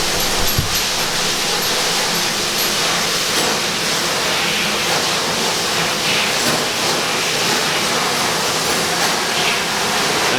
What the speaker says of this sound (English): and then just popping it in the washer.